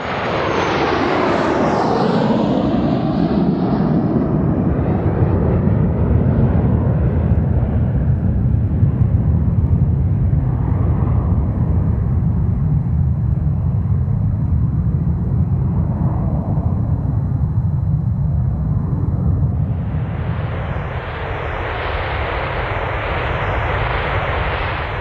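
Loud, steady roar of a BAC TSR-2 aircraft's engines running continuously, with a shift in pitch as they build power near the end.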